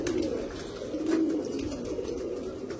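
Pigeons coo steadily and close by, a continuous soft low burbling of several birds with no talk over it.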